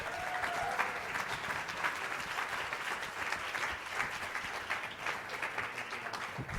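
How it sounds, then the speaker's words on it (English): An audience gives a policy panel on rural communities and farmers a round of applause, with dense even clapping from a large crowd, steady throughout and fairly distant. "Let's give our panel a round of applause"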